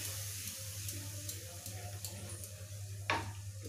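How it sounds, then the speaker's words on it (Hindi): A bowl is rinsed and water poured into it in a home kitchen while gravy cooks. Soft running water sits over a steady low hum, with a brief splashing pour near the end. "कटोरे को धुलकर पानी डाल देते हैं।"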